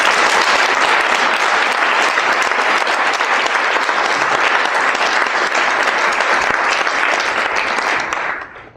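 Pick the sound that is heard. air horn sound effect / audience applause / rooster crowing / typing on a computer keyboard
audience applause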